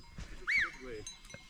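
A goat bleats once from a goat pen along a mountain trail in the Piatra Craiului range, a short, fairly close wavering call rising out of quiet outdoor background with faint voices nearby.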